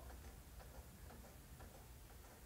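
A precision regulator clock with a deadbeat escapement ticking steadily and faintly, evenly spaced soft ticks under a constant low background hiss.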